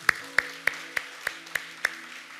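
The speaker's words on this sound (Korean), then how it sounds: "우리 다시 한번 하나님 앞에 감사의 박수 올려드리도록 하겠습니다." A church congregation claps in unison, seven evenly spaced sharp claps at a brisk steady beat over a faint sustained tone.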